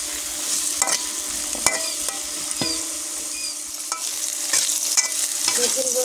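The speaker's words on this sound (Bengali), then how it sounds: "দিয়ে আমি একটু নাড়তে থাকবো আলু লাল লাল ভাজা না হওয়া পর্যন্ত।" Potatoes dusted with turmeric sizzle steadily as they are stirred and fried in a karai, with scattered scraping strokes from the stirring spoon over a continuous close frying hiss.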